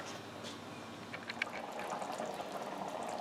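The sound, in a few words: cream of mushroom soup boiling in pot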